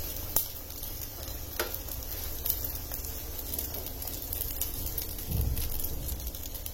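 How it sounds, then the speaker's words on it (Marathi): A puffed kulcha flatbread roasts on a hot tawa griddle, making a faint, steady sizzle with a few soft taps and scrapes as it is turned and pressed. "याला आता या बाजूने सुद्धा मी अजून गोल्डन करून घेते जरा"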